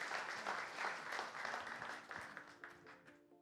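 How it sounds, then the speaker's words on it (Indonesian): An audience applauds the Jakarta team, Pelita Jaya, at a team launch event, a full burst of crowd clapping that gradually thins and fades after a few seconds. "Tepuk tangan dong buat kita, tim Jakarta."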